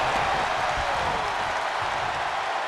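Wrestling arena crowd roaring and applauding for Peter Maivia in his match against George "The Animal" Steele, a steady, loud wash of cheering with no break.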